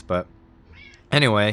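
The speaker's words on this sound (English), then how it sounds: "I don't know if you heard him meowing in the background there" Stewie, a pet cat, gives a short meow, then a longer, louder drawn-out meow close by, with a faint voice talking between them.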